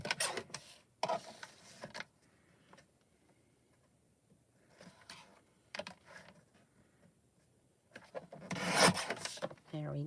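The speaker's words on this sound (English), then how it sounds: "I'm going to trim this corner down a little bit." Corner of watercolor cardstock being trimmed, heard as short dry rubbing and rasping cuts in bursts, the loudest near the end, with quiet pauses between them and no talking.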